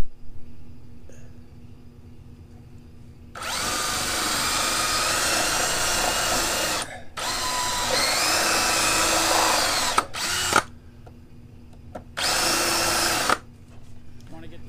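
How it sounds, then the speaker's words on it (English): A drill boring a 3/4 inch hole with a Forstner bit into a workpiece, three loud close bursts of whirring and cutting, the first about three seconds long, separated by brief pauses, with a faint low hum between them. "drill a 3/4 inch hole with the Forstner bit to hold a earth magnet"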